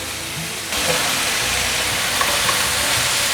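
Vegetables and mushrooms stir-fry in a hot wok with a loud, steady sizzle and hiss that jumps up suddenly and then holds, with occasional small pops and scraping from tossing.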